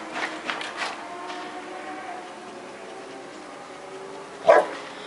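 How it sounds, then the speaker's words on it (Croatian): A Sarplaninac dog growls low and barks, with a quick run of barks at the start, a rumbling growl, then one loud sharp bark near the end. "Ova koja reži."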